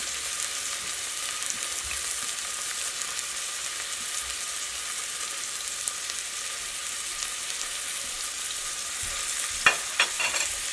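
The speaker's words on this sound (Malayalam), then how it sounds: "ഇതെല്ലാം കൂടിയിട്ട് നന്നായിട്ടൊന്ന് വഴറ്റിയിട്ടെടുക്കുക" A steady, bright hiss of onion, split green chillies and curry leaves sautéing in a pan for a Kerala egg curry, running evenly throughout with a couple of light utensil clicks near the end.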